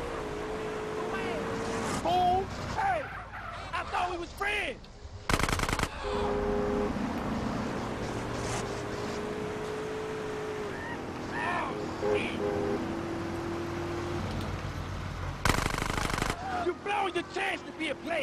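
GTA San Andreas drive-by from a heavy limousine: bursts of automatic gunfire rattle over engine drone and driving noise, with sharp loud blasts near the middle and the end.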